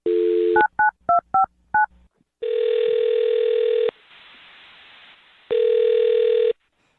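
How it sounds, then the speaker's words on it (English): Touch-tone telephone dialing: a quick run of about five short DTMF key beeps, then a long steady tone, a quieter hum and another steady tone, all loud and close with no talking. "I'm going to dial his phone number right now"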